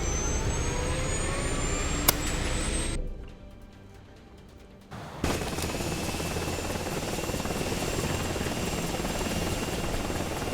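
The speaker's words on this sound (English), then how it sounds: "I love the immersive helicopter rides." A helicopter ride in a retro shooter video game drones with a loud, steady rotor-and-engine roar. The sound drops out briefly for about two seconds midway, then resumes at full strength.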